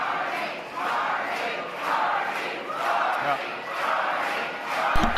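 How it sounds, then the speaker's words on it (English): A crowd at a campaign event in Ontario cheers and shouts in long swelling waves, a broad steady roar heard from within the room. "I like that he's shaking his head at being cheered."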